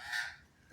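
A single short, harsh caw from a magpie, brief and fairly faint, heard alone against quiet background.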